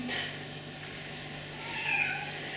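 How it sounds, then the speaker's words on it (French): A small house cat lets out a couple of soft, close meows, one near the start and a longer one toward the end, over a low steady hum. "mon petit chat il passe et en même temps il parle"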